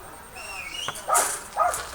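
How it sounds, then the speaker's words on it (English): A dog outside yelps and whimpers in a few short, fairly loud bursts, heard indoors during a quiet moment while a scale model tank kit is being unboxed. "some poor dog outside getting strangled"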